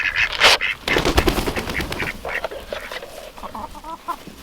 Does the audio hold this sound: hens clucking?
yes